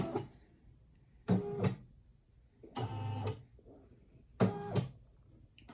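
A Brother SE1900 embroidery machine threaded with metallic thread runs in four short mechanical bursts of whirring and clicking, separated by quiet pauses, close and fairly faint.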